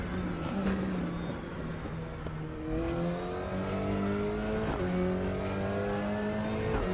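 An Alpine A110 Cup race car engine in the RaceRoom racing game revs and climbs through gears, a loud steady drone with rising pitch sweeps and a gear change partway, no voices.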